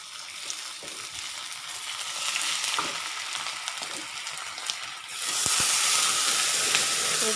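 Ginger paste fries with onions in a pan, a close, continuous hissing sizzle that swells sharply louder partway through, with no talking.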